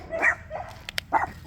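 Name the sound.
dog barking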